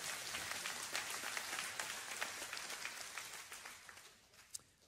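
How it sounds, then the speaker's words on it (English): A church congregation claps during a sermon, a few seconds of dense, crackling applause that thins out, with one last sharp clap near the end. "Yeah, we can give a clap to that."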